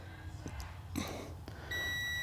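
A Tesmen auto-ranging multimeter gives its continuity test beep, a steady electronic tone that begins near the end and holds, following a few brief handling clicks and taps.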